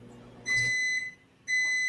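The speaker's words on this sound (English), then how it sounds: "That's my microwave." A home microwave beeps, two long, loud, clear electronic tones separated by a short pause, close by with nothing else heard.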